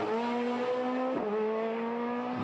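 Rally cars in the IRC Rally Islas Canarias, Spain, sweep through a special stage corner, a loud close engine note holding a steady pitch with a brief dip mid-pass as the driver lifts and reapplies throttle.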